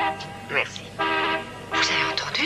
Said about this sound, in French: Mais c'est le bruit d'un klaxon.